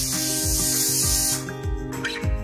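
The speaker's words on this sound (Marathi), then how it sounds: "आता कुकरला 2 शिट्ट्या करून घ्यायच्या आहेत" A pressure cooker cooking a Kolhapuri-style pulao whistles, a loud sustained hiss of escaping steam that cuts off sharply midway, leaving clattering and rhythmic kitchen knocks.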